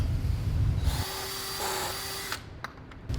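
A power drill drills a hole at high speed for over a second, then stops, followed by a few light clicks and handling noises, during an ISX/X15 compound turbo install.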